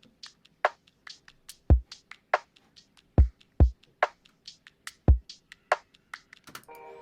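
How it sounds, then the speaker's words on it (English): A sparse electronic drum loop for a lo-fi beat plays alone, with crisp clicky hits and deep kick thumps in a loose repeating pattern. A short bright noise burst closes it. "So the drums on their own sound like this."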